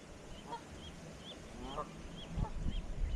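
A small, injured goose honks in short, nasal calls at a near-to-middle distance, repeating several times over rough outdoor background noise that grows louder toward the end.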